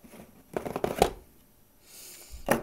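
Crinkling and tearing of cardboard and plastic packaging as a Samsung 840 series 250GB SSD is unboxed, several close rustling bursts separated by quieter pauses.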